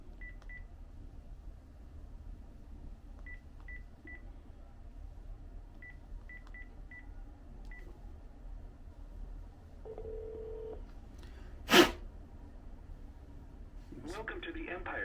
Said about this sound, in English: I'm dialing another number, y'all.